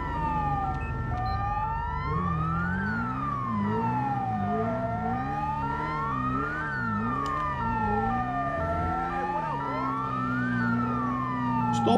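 Ambulance siren in the video game GTA 5, a loud close wailing tone sweeping slowly up and down in repeated cycles over engine rumble, steady and unbroken.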